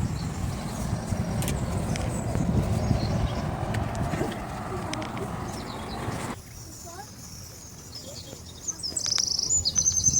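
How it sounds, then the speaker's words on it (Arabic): Sparrows chirp with short bright tweets, faint at first under road noise and voices, then clearer and more prominent once the rumble drops away, on a trip toward Mersin. "العصافير زقزق. بنزقزقوا."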